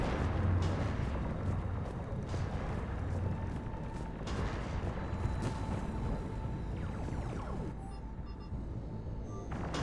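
Deep rumbling booms of heavy cannon fire in the video game Mass Effect 3 roll on continuously, dense and loud, like a chaotic battle scene with no clear gaps.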